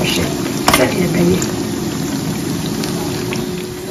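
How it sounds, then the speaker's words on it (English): Beef frying in a pan for Ghanaian waakye stew, a steady crackling sizzle that runs throughout at close range, with a brief clatter near the start and talk in the background. "you really need to fry your beef when it comes to using it for your waakye stew"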